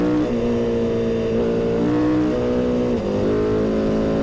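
A KTM Duke 990 motorcycle engine revving and pulling up through the rev range, loud and close, with a strong harmonic drone that rises, dips at a gear change and climbs again.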